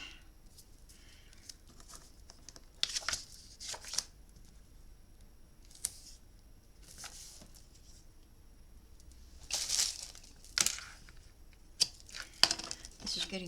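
Tape being torn and pressed into a glue-mucky memory book, with scattered short crinkly rips and rubbing sounds, quiet and close, spread over a calm stretch.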